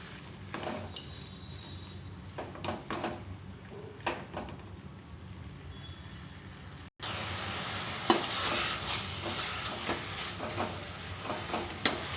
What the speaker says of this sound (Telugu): స్టవ్ పైన ఒక పెనం పెట్టుకొని పెనం హీట్ అయిన తర్వాత ఈ ఆకు వేసి వేయించుకోవాలి